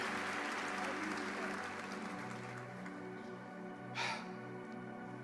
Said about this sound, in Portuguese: Você pode aplaudir o mais forte que você puder.